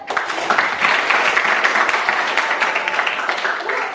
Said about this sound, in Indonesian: Iya, tepuk tangan untuk Weber.